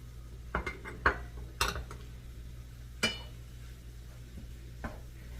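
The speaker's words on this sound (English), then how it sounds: "I'm going to stir my flour in there and get everything stirred in really well together" Flour being stirred into a pan for a turkey à la king cream sauce: a few sharp utensil clinks and scrapes against the pan, spaced out over a quiet background.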